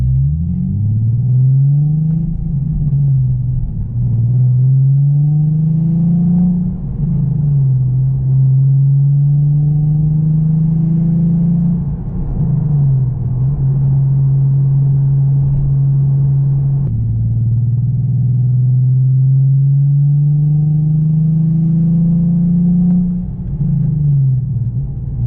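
A Nissan 370Z fitted with a Greddy EVOlution GT exhaust drones steadily while driving, its deep low tone rising and falling through repeated gear pulls and shifts, loud, close and continuous with no talking.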